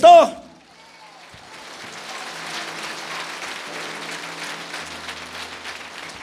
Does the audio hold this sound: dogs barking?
no